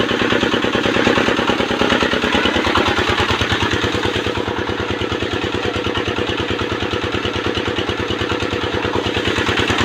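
Small water pump engine running steadily with a fast, even chugging pulse, loud and close, with no voices over it.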